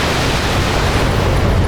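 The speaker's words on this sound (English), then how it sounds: "Oh, there was an ammo explosion." An ammo explosion in the mech combat game BattleTech, a loud, dense roar of blast noise that holds steady throughout without letting up.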